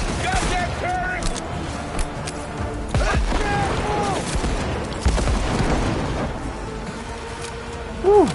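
Gunfire aimed at an enemy during a turret fight in the Cyberpunk video game, scattered loud shots and bursts mixed with game sound effects and voices talking.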